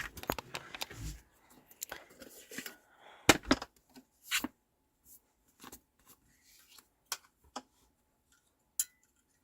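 Scissors snipping out a 12x12 stamped paper sheet for butterfly cards, a few scattered crisp cuts and rustles spaced out, close and fairly quiet with pauses between.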